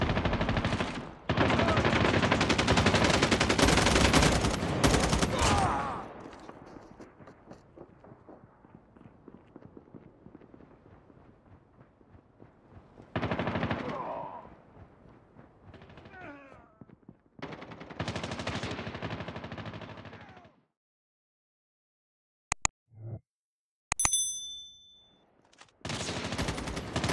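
Gunfire in the Call of Duty Mobile game comes as loud sustained automatic bursts, then quieter stretches, then more bursts, with sharp single shots and a short silence near the end.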